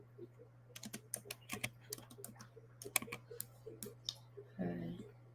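Quick, uneven keystrokes clatter on a computer keyboard in bursts of sharp clicks, close and fairly quiet over a steady low hum, with a soft vocal sound near the end.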